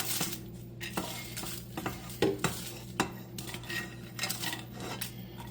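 Dried arbol peppers tossed and stirred in a hot pan, giving dry rattling scrapes and light knocks against the metal over a soft sizzle, close up with no voices.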